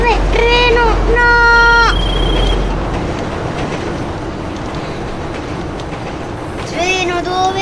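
A train in the GTA 5 video game: drawn-out horn-like tones sound for about two seconds, then a steady loud rolling rumble continues, with the tones returning briefly at the end.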